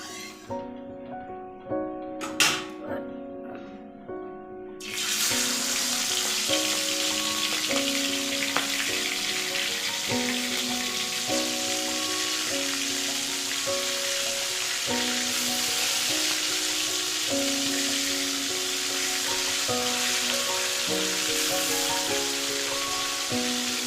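After a few quiet seconds, a loud, continuous sizzle of pomfret frying in hot oil in a wok starts and holds steady, with background music playing throughout.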